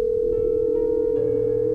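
A phone ringback tone plays as a sound effect in a narrated German horror story, a single steady electronic tone sustained for under two seconds, loud and alone.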